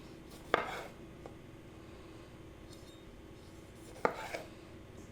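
A knife slices through tomatoes on a cutting board, cutting them in half lengthwise for garden salads, giving two sharp, close chops about three and a half seconds apart over a quiet kitchen background.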